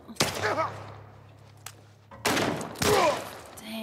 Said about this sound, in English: Dang, shot him in the arm twice.